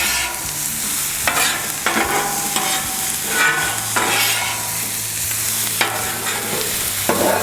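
Beef fried rice sizzles steadily on a Camp Chef FTG600 flat top griddle, loud and close, with repeated spatula scrapes and tosses roughly every second against a low hum.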